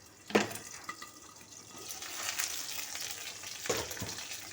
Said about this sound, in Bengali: এবার আমি কী করবো, আলুটাকে একটু নাড়াচাড়া করে নিই।